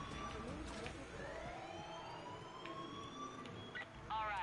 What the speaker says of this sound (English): Oh, we gotta kill that siren.